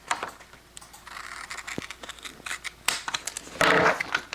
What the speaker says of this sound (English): I'll just cut off the tag